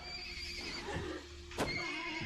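A horse whinnies loudly in the Wartales video game, a drawn-out neigh with a sharp bright burst near the end over a soft ambient backdrop.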